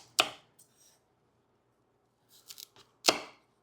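A kitchen knife cuts carrots into bite-size pieces about 1.5 inches long, giving a few sharp, isolated chops against a cutting board with short pauses between them.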